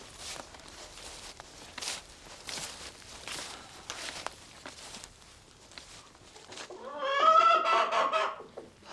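Chickens clucking nearby, scattered soft clucks and rustling steps at first, then a louder burst of rapid, rising clucking near the end, close to the listener with no talk.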